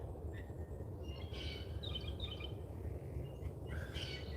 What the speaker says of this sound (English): God, I love birds.